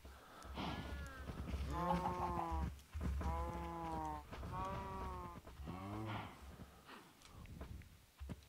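A cow in Minecraft 1.17.1 hardcore vanilla gives four drawn-out, close lowing calls in a steady series over quiet game ambience.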